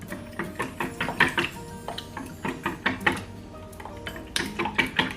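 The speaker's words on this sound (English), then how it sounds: "I'm just going to whisk the egg together" Nine eggs whisked together in a bowl, a quick rhythmic clatter of metal against the bowl in steady bursts, close and fairly loud, with no talking.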